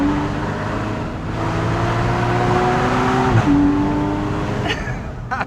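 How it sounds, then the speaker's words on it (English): Porsche Cayman GTS or Boxster GTS flat-six engine with the sport exhaust button engaged, idling and revving in a steady, loud drone with a brief pitch rise near the middle and a few sharp pops toward the end. "it changes the sound of the flat six engine from this which is pretty nice, to this. I'm going to press the button."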